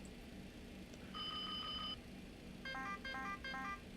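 Electronic cockpit alerts from a TFDI MD-11 airliner during startup in a flight simulator game: a steady high beeping tone, then a rapid repeating chime pattern, over a low constant systems hum, faint and free of talk.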